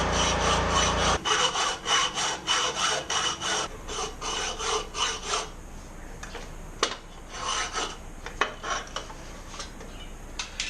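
A hand saw cuts rings off a jetski exhaust pipe cone in quick, steady back-and-forth rasping strokes, close and fairly loud. The strokes turn more scattered and scraping toward the end, with no talking.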